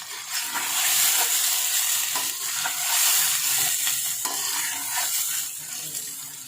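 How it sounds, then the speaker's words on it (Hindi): Chicken frying in a kadai, a loud steady sizzle and hiss of hot oil with the occasional scrape of stirring, close up and alone without talk. "चिकन को अच्छे तरीके से हमने करना है फ्राई, ताकि इसका गोल्डन गोल्डन थोड़ा कलर आ जाए"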